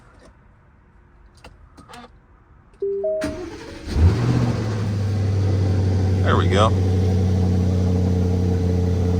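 A 2024 Aston Martin DB12 fires up after a short crank, catching with a loud rev flare and then settling into a steady, throaty idle close by, with a brief spoken remark over it.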